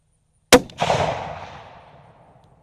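A single loud gunshot from a .30-06 rifle, a sharp crack followed a moment later by a booming echo that rolls away and fades over two seconds, outdoors with no talking.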